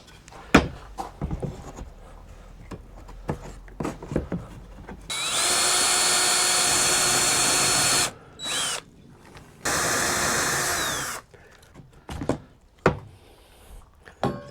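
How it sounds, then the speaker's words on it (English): A power drill bores through a camper shell above a wooden backing, two long loud steady whining runs separated by a short burst, with clicks and handling knocks before and after. "the drill is not centered directly over the wood"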